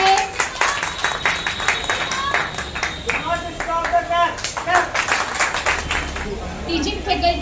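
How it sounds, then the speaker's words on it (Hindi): Applause from an audience at a Teacher's Day function in an academy, with uneven hand clapping running steadily throughout and voices calling and talking over it. "प्लीज जोरदार तालियों से मैम को अप्रिशिएट किया जाए."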